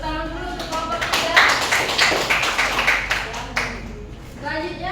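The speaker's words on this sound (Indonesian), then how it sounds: "Tepuk tangan dulu untuk kelompok 3." Brief burst of classroom applause for a student group, a few seconds of scattered clapping from a small group, with voices speaking before and after it.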